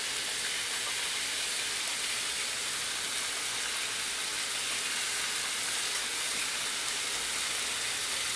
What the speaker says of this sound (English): I'm just gonna fry it up, season it up a little bit